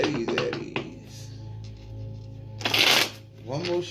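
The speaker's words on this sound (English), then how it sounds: "One more shuffle for Aries." Tarot cards being shuffled by hand, with a rapid riffling burst partway through and softer handling sounds around it, close and clear beneath a person talking.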